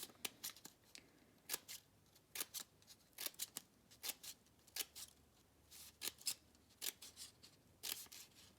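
Scissors snipping thin decorative paper for a paper flower, a quick irregular run of crisp, close cuts separated by short quiet pauses, with no voices.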